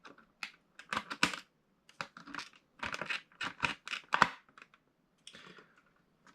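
Scissors snip and crinkle plastic blister packaging while a Bakugan Gen 2 True Metal Wrath toy is opened, producing close, irregular bursts of cutting, crackling and rustling separated by short pauses.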